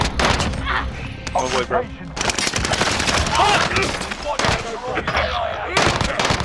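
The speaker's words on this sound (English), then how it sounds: "Me empezaron a disparar." Rapid gunfire crackles through a tactical shooter video game match, with bursts of shots ringing out almost continuously while players talk and shout excitedly over the top.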